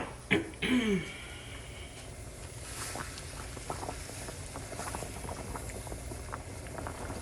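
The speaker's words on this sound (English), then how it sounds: "it's boiling, and I'm gonna put the papers in there now" Steady bubbling of water on the boil in a pot, with a couple of louder clinks and knocks near the start, then continuous rolling bubble patter.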